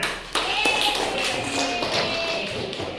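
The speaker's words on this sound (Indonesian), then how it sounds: "Oke, tepuk tangan." A classroom of students clapping hands together in short, uneven bursts of taps, fairly close and lively, with faint voices mixed in.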